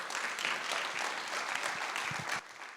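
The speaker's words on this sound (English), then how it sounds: "Big round of applause, please, for Margot Hannon." Audience applause fills a hall at a care-focused gathering, steady and dense throughout before thinning slightly near the end, with no voices over it.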